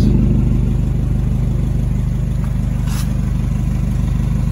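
A Nissan Navara NP300 with its muffler deleted and a stainless pipe in its place idles with a loud, raw, pulsing exhaust drone, steady and close for several seconds.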